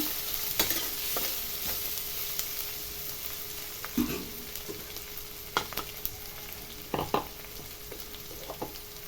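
Grated ginger and garlic sizzle steadily in a pan with onions and spices, as a utensil scrapes and taps against the pan in irregular bursts.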